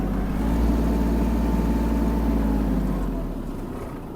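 A Kubota GL-200 Japanese mini tractor drives and maneuvers forward, back and side to side, its steady diesel engine drone loud and close throughout, easing slightly toward the end.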